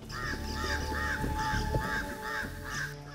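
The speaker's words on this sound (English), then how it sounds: "Jamaican crow, Jamaican crow, calling right next to us here" A crow gives a series of harsh, nasal caws in a steady rhythm, close and clear, with no talking.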